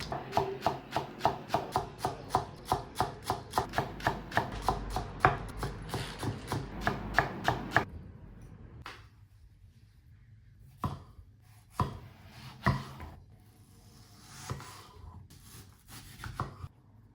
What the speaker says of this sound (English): First of all, I'm gonna cut the scallion, green onions, okay?